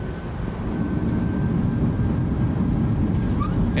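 Airliner thrust reversers roaring in Microsoft Flight Simulator 2024 during a PMDG jet's landing rollout at Molde, a steady, dense low rumble filling the whole stretch with no talk over it.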